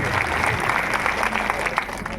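Loud clapping from a large crowd with hands raised at a devotional Samanata Samavesha gathering in Basavakalyan, a dense rapid patter of applause mixed with crowd noise and voices.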